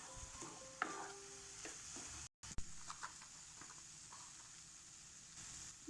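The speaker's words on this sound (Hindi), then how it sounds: "एहिमे एकरा खूब बढ़िया से मिला लेबै।" A spoon stirs a potato and corn tikki mixture in a pan, a soft continuous wet scraping and mushy rustle with a brief gap midway, close and moderately quiet with background hiss.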